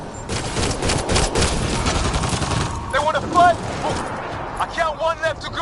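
Bursts of gunfire in the video game Mass Effect Andromeda, rapid shots crackling loudly in the first half amid battle noise, with voices shouting over the fighting.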